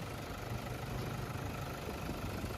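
A Toyota Fortuner 4WD with a 3000cc diesel engine idles steadily, a low, even rumble heard up close and fairly quiet, with no other sounds.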